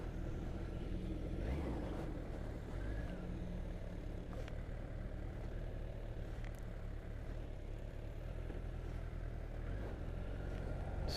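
A big motorcycle fitted with Pilot Road 4 GT tyres rides along slowly, giving a steady loud engine and road rumble with wind noise throughout.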